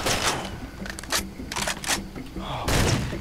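Gunfire in the video game Far Cry 2 comes in sharp, irregular bursts, several close cracks spaced across a few seconds with a heavier blast near the end.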